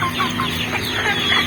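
Chickens clucking steadily on a small home chicken farm, several birds overlapping in a busy, continuous cluster of short calls at close range, with no one talking.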